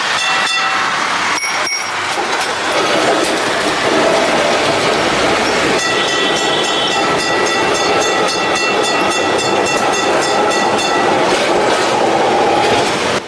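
A Calcutta tram runs along its rails with a steady, loud, close rumble of wheels and rattling cars, high metallic wheel squeal threading through, continuous for the whole stretch with no voices.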